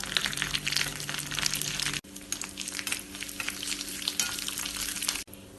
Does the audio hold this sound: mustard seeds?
yes